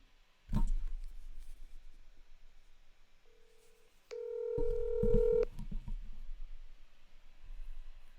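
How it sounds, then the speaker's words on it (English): Telephone dialing tones ring out as a call is placed during a live sports show, with steady electronic tones lasting a couple of seconds against quiet background noise and a few thumps. "I'm going to get Pete on the phone"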